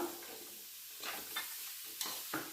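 Chopped carrot, potato and beans are stirred together in a pan for vegetable pulao, giving a few soft, brief scraping strokes that are quiet and spaced apart, with no talking.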